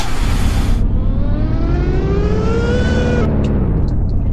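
A car in an Obby video game starts up and drives off, its engine pitch rising steadily as it accelerates, loud and close, then cutting off abruptly with a few brief clicks after.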